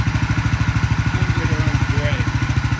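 A 1967 Sears Super 12 garden tractor engine runs fast with a rapid, even pulsing throb, loud and close, with faint voices in the background.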